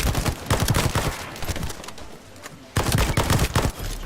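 Rapid gunfire in The First Descendant rattles off in dense, fast bursts, loud and close, with a short quieter gap before another volley resumes.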